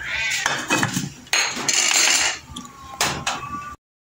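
Metal lid clattering onto a cooking pot of sinigang, several clinks and scrapes of pot and utensils, close and moderately loud before sudden silence.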